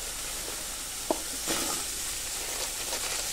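Malabar spinach being cooked lightly in a wok, a constant close sizzle with stirring scrapes and a sharp clink of a utensil, without speech.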